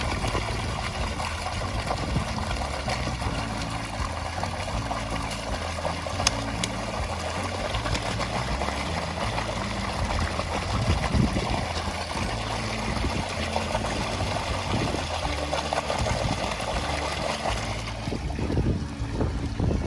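A tubewell motor pump runs steadily while water gushes out in a continuous, unbroken rush with a low mechanical drone underneath. The sound is fairly loud and close, and no one speaks.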